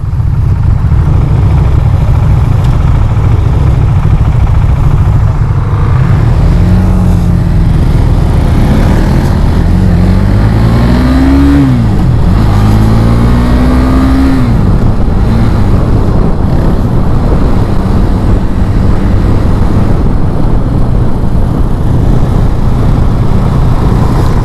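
Loud, steady engine drone of a 2021 KTM 390 Duke motorcycle ridden in third gear, with wind buffeting throughout and a brief rise and fall in engine pitch midway.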